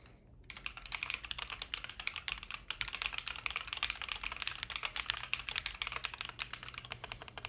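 Fast, steady typing on a computer keyboard, close and clear, with dense rapid key clicks running continuously after a short quiet start.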